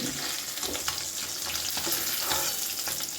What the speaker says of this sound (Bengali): মাছগুলো ভাজা হয়ে গেছে এবার আমি এগুলোকে তুলে নেব